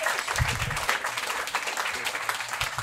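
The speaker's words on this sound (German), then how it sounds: "Das ist mal Applaus für ihn" Spectators at a live stand-up comedy show clap steadily for a few seconds, a dense, even patter of applause with faint crowd murmur underneath.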